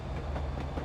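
An EWS Class 67 diesel locomotive in Train Simulator Classic picks up speed, with a low engine rumble and rhythmic wheel clatter on the track, steady and close.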